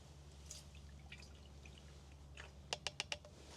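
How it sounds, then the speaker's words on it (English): Horticultural oil being poured into a measuring cup, heard as a quiet trickle followed by a quick run of four sharp drips near the end, close and faint against a low background hum. "I'm going to measure out 5 ounces for our 2-gallon sprayer. Right there, pour it in."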